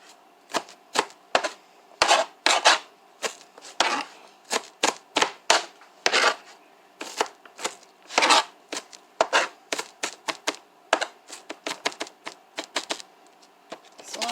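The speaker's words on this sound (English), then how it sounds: "I'll step away from time to time when I'm cutting onions" Onion being chopped with a knife on a cutting board in a home kitchen, a long series of crisp, sharp knocks in quick bursts and short pauses, close and clear with no talking.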